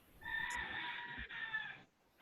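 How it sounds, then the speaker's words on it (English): A rooster crows once, a clear drawn-out cock-a-doodle-doo heard at moderate distance through a quiet home setting during an online class, with no talk over it. "who has a rooster there?"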